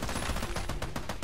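Rapid automatic gunfire from the co-op shooter Army of Two, a dense run of repeated shots with no speech.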